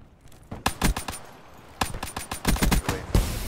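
Pistol gunfire in a video game, loud sharp shots in quick clusters, a rapid volley, a pause, then more irregular bursts up close.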